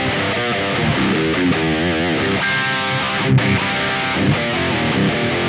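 Distorted metal electric guitar through a Kemper amp profile with delay and reverb switched off, dry chugging riffs and sustained chords played loud and steady throughout, no voices.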